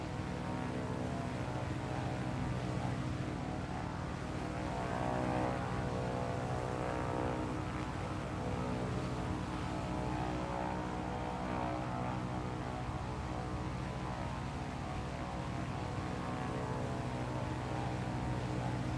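A propeller aircraft drones steadily overhead in low-level flight across a New Zealand river peninsula, a continuous even engine hum with no break for the whole stretch.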